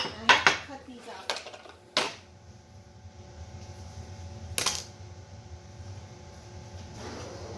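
A knife clacks against a board and dish while soft tender pizza toppings are sliced thin, several sharp close clatters early then quieter taps, with no voice.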